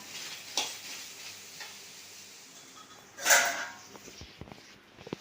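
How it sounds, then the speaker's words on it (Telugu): Ivy gourd, green chillies and coriander fry in a pan with a soft, steady sizzle and occasional stirring scrapes. A louder burst of hiss comes midway, followed by a few sharp utensil clicks. "దొండకాయ పచ్చిమిర్చి కొత్తిమీర అయితే మంచి ఫ్రై అయిపోయింది"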